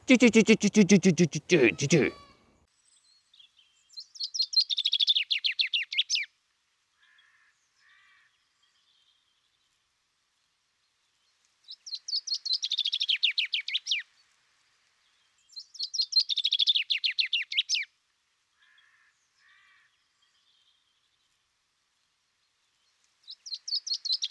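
A chaffinch sings a repeated short, rattling song phrase several times with pauses between, clear and fairly close, after a brief burst of talk at the start.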